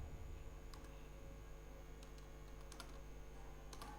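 Scattered keyboard taps from a computer keyboard as Python code is written, faint clicks spread over a steady low electrical hum, with a few denser bursts of keystrokes.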